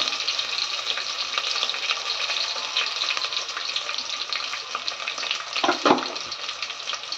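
Onions and green chilies sizzle steadily in hot oil for village-style bagara rice, a dense continuous frying hiss with a brief louder stirring flurry near the end and no talking.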